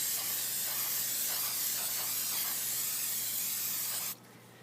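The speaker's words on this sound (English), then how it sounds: "I will coat it in Scotchgard, like so." Scotchgard aerosol sprays steadily onto hermit crab sand in a pan, a continuous loud hiss lasting about four seconds before cutting off abruptly.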